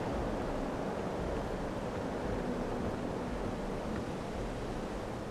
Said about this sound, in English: The prettiest waterfall.